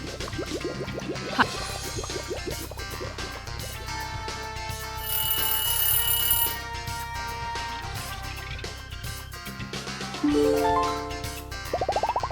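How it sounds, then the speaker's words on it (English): An electronic alarm tone rings out as a bright, repeating melodic chime, loud and close, with a brief pause before it starts again. "Time to rise. Choose your alarm clock."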